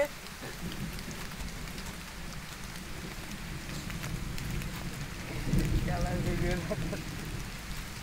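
Steady rain pours down in a continuous hiss, swelling a little heavier partway through, with faint muffled voices underneath.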